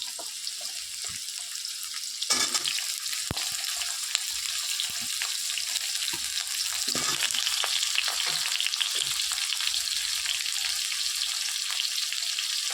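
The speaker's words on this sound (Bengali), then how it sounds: "এবার আলুটা একটু ভেজে নিই" Cut potatoes frying in a pan with green chillies, a dense continuous hiss of sizzling oil with occasional soft clinks and stirring, close and steady throughout.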